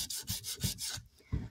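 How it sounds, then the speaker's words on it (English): Light hand sanding on an old International 460 utility tractor starter part, a few quick rubbing strokes in a steady back-and-forth rhythm, close and alone. "Just a light sanding, clean it up."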